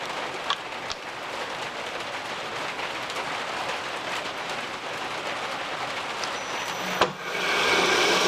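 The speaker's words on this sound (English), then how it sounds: "we just had ourselves a little hailstorm" A hailstorm pelts down in a steady, dense rattling hiss of pellets striking surfaces, with a few sharper clicks and a louder, fuller wash of noise near the end.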